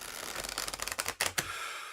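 Playing cards shuffled and riffled close by, a soft papery rustle that builds into a few quick bursts of flicking cards, with no one speaking.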